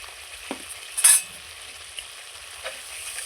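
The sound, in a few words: spice paste with turmeric being sautéed for paneer curry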